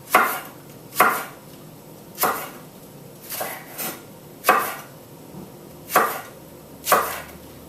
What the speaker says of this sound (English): And I'll chop this quite roughly, I don't like it too finely chopped on this particular dish.